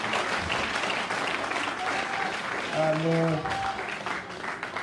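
Applause fills a church service, steady clapping under a voice speaking in French, with a brief sung or sustained tone near the middle.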